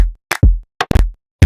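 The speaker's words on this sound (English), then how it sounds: "So it's just a steady kick." Deep kick drum hits from the Mastercraft Pack repeat at a steady pace, each thump short and punchy with brief silence in between.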